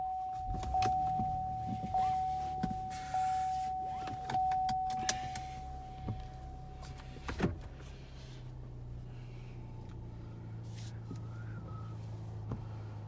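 A car with comma ai openpilot 0.4.7 pulls away for a drive, with a steady engine and road rumble, a sustained whine like a power window early on, and a few clicks and thumps, no talk.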